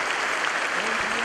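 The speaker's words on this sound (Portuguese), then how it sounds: "Santiago, a igreja de Santiago, uma salva de palmas." A church congregation in Santiago applauds, a dense, steady wash of many hands clapping that fills the short moment at an even level.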